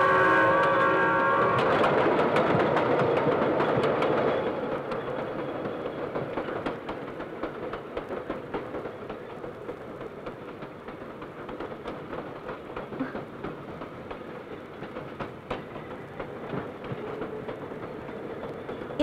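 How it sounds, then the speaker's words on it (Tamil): The Kovai Express, running from Coimbatore to Chennai, pulls into the first platform of a station. Loud rumbling and clattering wheels fade to a steady rolling rattle with scattered clanks, and no talk is heard. "கோவை எக்ஸ்பிரஸ் இன்னும் சிறிது நேரத்தில் முதலாவது பிளாட்ஃபார்மத்தை வந்தடையும்"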